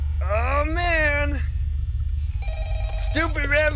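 A phone rings in Five Nights at Freddy's 2, a short steady electronic tone heard between bursts of an excited, sliding voice talking over it.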